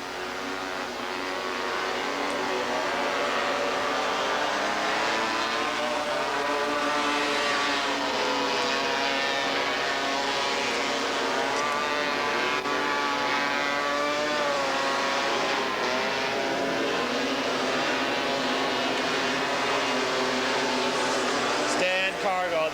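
250cc Odyssey Superstock Class 2 off-road racers at a 1986 Porterville grand national event, a continuous dense engine drone with shifting revs throughout, heard under an announcer's voice.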